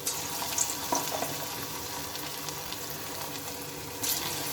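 Small bitter gourd pakoras fry in hot oil, giving a steady close-up sizzle and bubbling hiss throughout, with a few brief sharper crackles.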